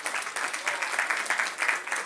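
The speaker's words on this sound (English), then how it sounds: "give them a big round of applause" Steady crowd applause fills the whole stretch, many hands clapping at once in a dense, continuous wash with no voices on top.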